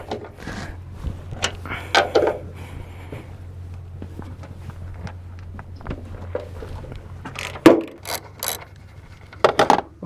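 Metal clicks and clunks from a socket ratchet loosening a strut bolt with a 14 mm socket on a Hyundai Tiburon, scattered taps and ratchet rattles close by over a low steady hum, with a few sharper metallic knocks.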